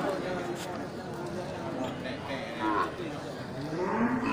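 Aceh cattle, cows and calves, low and moo amid a busy livestock market crowd in Geurugok, Indonesia, with people talking in Indonesian over steady background chatter and occasional animal calls.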